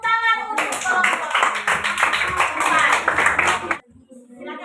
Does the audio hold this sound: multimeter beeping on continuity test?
no